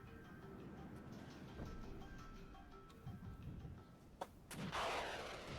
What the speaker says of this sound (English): Let's just start dropping some artillery on the spot. I believe this is some very heavy artillery.